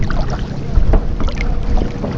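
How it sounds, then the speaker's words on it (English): Paddling out on the water, with irregular splashes and dips of a paddle amid rough wind buffeting the microphone, fairly close and continuous. "the two of them hear slight paddling out in the water."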